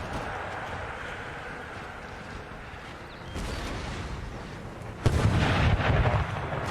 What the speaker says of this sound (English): This is a heavy artillery bombardment here.